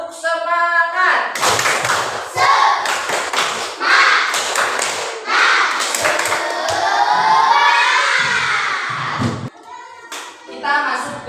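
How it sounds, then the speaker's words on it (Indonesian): An Indonesian school class performs a rhythmic spirit clap, sharp patterned hand claps and taps mixed with children chanting in unison, close and loud. "Kita akan memulai pembelajaran kita dengan tepuk semangat."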